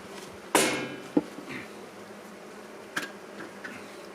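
Honeybees hum steadily around an opened hive, with a few sharp knocks of wood or frames cutting through the close, continuous buzzing.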